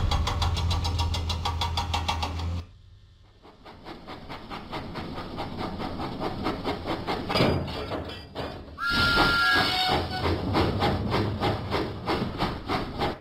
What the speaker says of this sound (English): Thomas pumped his pistons and puffed out of the docks.